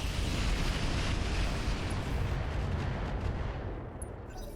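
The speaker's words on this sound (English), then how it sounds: "We are in range of the rocket packs, and we're going to go ahead and fire those." Rocket packs fire on a mech in the BattleTech RogueTech mod, a continuous roaring barrage of rumbling low blasts that holds steady and then tapers off near the end.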